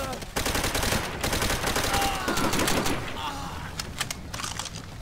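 Rapid automatic gunfire and scattered shots in Call of Duty: World at War, with bursts crackling close and loud before thinning into sparser shots, and battle chatter underneath.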